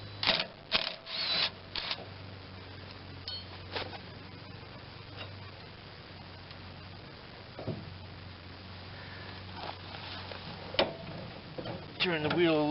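Loosening and pulling the steering tie rod on a 1986 John Deere 185 lawn tractor gives scattered metallic clicks, clanks and wrench rattles, close and moderately loud, over a steady low mechanical hum, busiest at the start and near the end.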